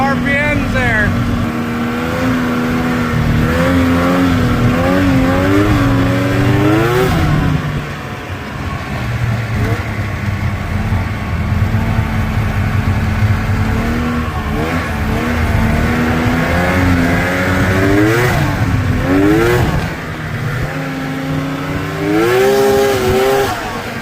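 A vehicle engine warms up, idling and then revving repeatedly through rising and falling pitch sweeps, loud and close, with brief pauses between pulls.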